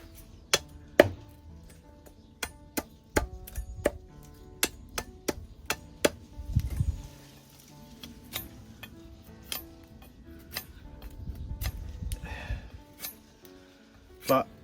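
A Darien machete chops and shaves a wooden spoon blank, giving sharp, close, irregular knocks with pauses between strokes while someone talks quietly.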